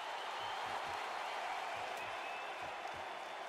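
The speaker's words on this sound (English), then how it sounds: "This crowd is going nuts." An arena crowd at a UFC fight roars in a continuous, distant wash of cheering and applause, with a commentator's voice talking over it throughout.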